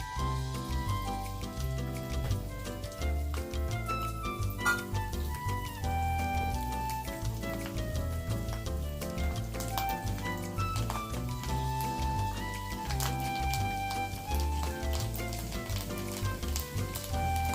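Chopped dried garlic fries in oil in a pan for Kathiyawadi olo, a continuous close crackling sizzle that holds steady throughout, with some tonal background sound underneath.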